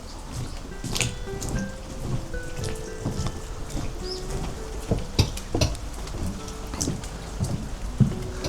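Rain falls outdoors on stone stairs by a house, a steady patter with close, irregular drips and splashes on hard surfaces, with no voices.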